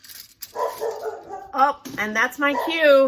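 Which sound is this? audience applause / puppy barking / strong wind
puppy barking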